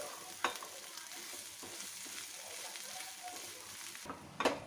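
Boiled mashed potatoes cook in a pan over a slow flame, giving a soft low sizzle under repeated stirring and scraping, with a few sharper spoon knocks, one near the end; quiet and close, with no voices.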